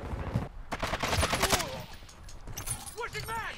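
Gunfire in the Call of Duty video game, with rapid bursts of automatic shots and cracks close by in the first half, followed by fainter bursts and whooshing effects.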